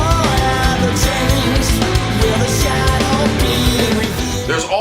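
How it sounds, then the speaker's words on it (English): A melodic guitar solo, a loud, dense full-band rock mix with sustained lead guitar lines over driving drums and bass, continuous throughout. "that melodic guitar solo"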